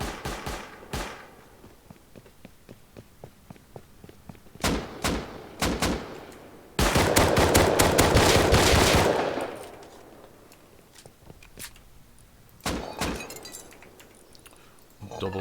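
Shotgun blasts in the survival game Rust come as sharp, loud reports in irregular bursts, with a dense volley of repeated shots in the middle. A voice talks over parts of the firing.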